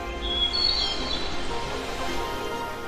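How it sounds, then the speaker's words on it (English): Birds chirp around a cabin set in serene natural surroundings, a few high, quick calls clustered near the start over a steady, noisy background. "listening to the sound of birds chirping"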